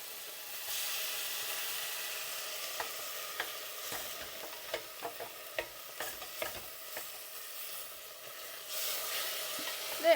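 Onion frying in olive oil gives a steady close sizzle, with scattered sharp clicks and scrapes from stirring in the pan; no one speaks.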